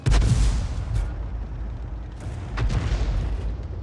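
A tank gun fires in World of Tanks, heard as a heavy booming report up front with another deep blast later, over rumbling low background noise.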